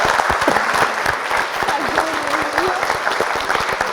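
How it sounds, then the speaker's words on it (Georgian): A crowd at a school quiz-show final between two schools breaks into lively applause. Sharp, close claps crackle steadily throughout, with a voice and crowd chatter faintly underneath. "აპლოდისმენტები, მართლაც აპლოდისმენტები."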